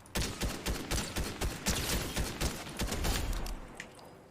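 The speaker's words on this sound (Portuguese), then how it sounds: "Alguém atirando em mim." Rapid volleys of gunfire aimed at the player in a video game, dense overlapping shots crackling steadily for several seconds, loud and close with no talk over them.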